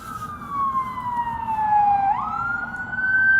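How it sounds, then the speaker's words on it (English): An emergency vehicle siren wails steadily on a police patrol, its pitch gliding down then jumping back up, loud and continuous over road rumble with no voices. "if you hear a siren and it's a ways away, just pull over to the right"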